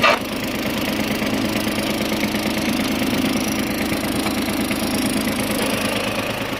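An ISEKI TM17 tractor engine runs with its PTO turning, a steady close mid-pitched diesel drone with a slight knock, held at even loudness throughout and with no voices over it.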